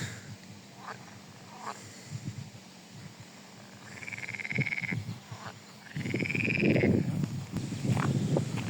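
A chorus of frogs croaking at an overgrown pond in the Vilnius University Botanical Garden: scattered calls grow into loud, rapid croaking with trilling notes, close and continuous.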